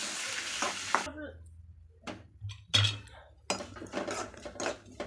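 A large onion sautés in a pan, bursts of sizzling and stirring scrapes broken by short quiet gaps, close and moderately loud.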